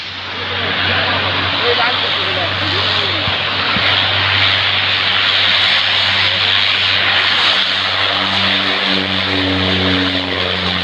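A large airplane landing at Cooch Behar airport gives a loud, sustained engine roar with droning propeller-like tones and slowly shifting pitch, heard close and continuous across the whole span.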